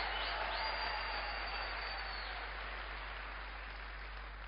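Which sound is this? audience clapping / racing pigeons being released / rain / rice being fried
audience clapping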